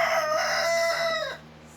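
Two competing roosters crowing at close range, one loud crow sustaining and then trailing off, heard alone without talk.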